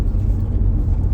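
Steady low rumble inside a moving car on the drive home, a dense, constant engine and road drone that stays even throughout the brief stretch with no talking.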